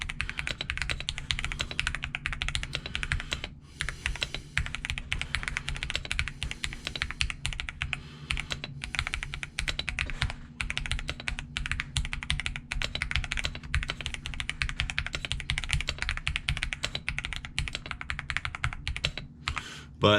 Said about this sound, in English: I did Otomu Speed Silver switches, which I really like. I think they sound great.